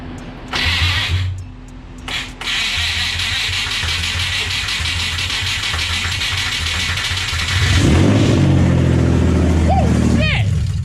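A motor-swapped third-generation 2007 Nissan Altima SE-R engine cranks and catches, then runs at a steady idle before revving up with rising and falling pitch, loud and close, with voices in the background.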